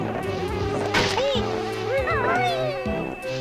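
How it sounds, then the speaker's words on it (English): Bees buzzing in the video game Banjo-Kazooie, a steady electronic hum under chirpy game music and sliding sound effects, with a person talking over it. "There aren't supposed to be bees"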